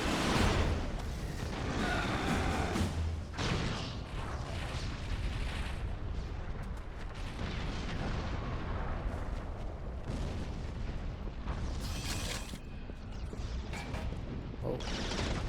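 Mortar fire in the video game Resistance booms and thuds repeatedly in a steady battlefield barrage, with rumbling impacts and mechanical clatter layered throughout, fairly faint and distant.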